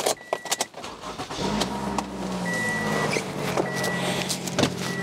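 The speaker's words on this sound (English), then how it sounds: "I'm going to turn on the car." A car being started beside an EPAuto portable air compressor setup: clicks and jingles like keys, then a steady engine hum rising and holding close and loud, with faint tonal whines over it and no talking.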